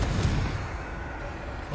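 A Confringo fire spell from Hogwarts Legacy bursts with a deep, booming blast at the start, then rumbles away into a low, fading roar with no talk over it.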